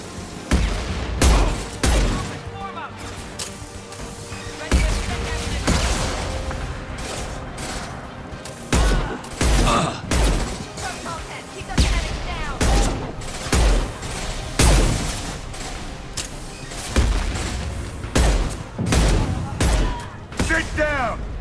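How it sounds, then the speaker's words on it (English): Heavy gunfire from a high impact shot in the video game Mass Effect 2, a loud sustained fusillade of repeated booming blasts and bursts over roughly twenty seconds, with mechanical clatter and some voices mixed in. "Firing a high impact shot."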